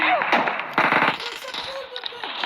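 Sharp gunshot cracks from PUBG Mobile, including sniper fire, come in a couple of short bursts close together, with people talking over the game.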